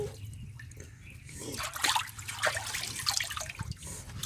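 Water from a tap or poured stream splashes and trickles as a child's muddy feet are washed outdoors in a Pakistani village, a steady close wash with brief spattering bursts and no talk.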